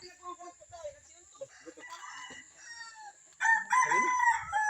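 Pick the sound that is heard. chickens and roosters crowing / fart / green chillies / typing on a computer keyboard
chickens and roosters crowing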